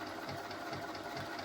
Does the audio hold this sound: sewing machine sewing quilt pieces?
yes